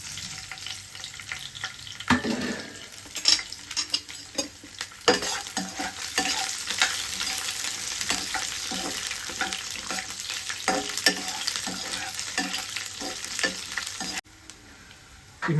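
Chopped onion and capsicum frying in a pan with a constant sizzle, broken by frequent scraping stirs of a spoon against the pan, close and busy, then suddenly quieter near the end.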